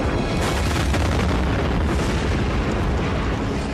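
Asteroid impact explosion: a loud, sustained broadband roar and rumble filling the whole stretch with no letup and no voices.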